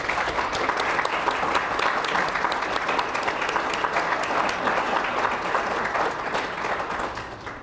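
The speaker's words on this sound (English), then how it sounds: "If you please stand so we can give you a round of applause." Sustained applause from an audience in the room at Virginia Beach's Dome as the mayor and city council members stand, a steady dense clatter of clapping that holds throughout and tapers slightly at the end.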